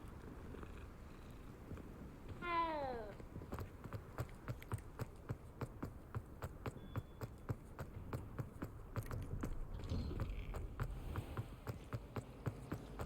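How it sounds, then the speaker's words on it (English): A cat in the Hogwarts Legacy video game gives a single rising meow while being petted, followed by a steady run of soft, rhythmic purring pulses at moderate loudness with no talking. "I'm gonna pet a kitty."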